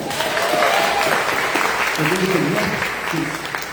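A church congregation at a Portuguese-language service bursts into sustained applause, a dense, steady wash of clapping that carries on for several seconds with voices rising faintly through it near the end.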